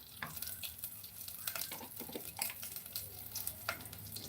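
Spice tempering sizzles in a hot pan as turmeric goes in, a quiet crackling fry broken by scraping stirs and sharper spitting pops, with no voices.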